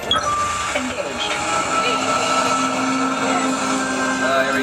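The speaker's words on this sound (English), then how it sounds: "Pilot, engage second stage rocket now." Simulated second-stage rocket engine on a motion-simulator space ride at a theme park, a steady loud roaring rumble with a faint sustained hum running underneath, unbroken for several seconds.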